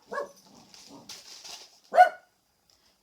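A dog gives a few short, sharp barks near the start and a louder one near the end, close by, with faint whimpering and quiet household sounds between them and long quiet gaps.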